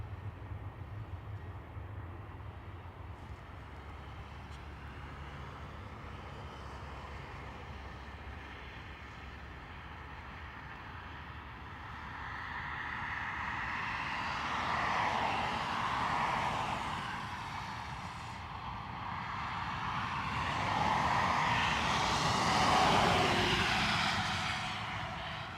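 Ryanair Boeing jet at Dublin airport, a distant low rumble that swells into a louder rushing engine roar in the second half, peaking near the end, no voices.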